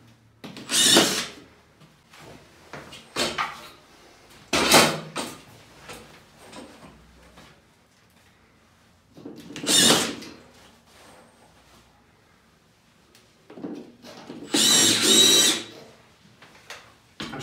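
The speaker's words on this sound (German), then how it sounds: "Dann schraube ich das jetzt fertig" A cordless power screwdriver drives screws through a drywall profile into a horizontal plasterboard ceiling box, heard as four short, loud whirring bursts separated by quiet pauses.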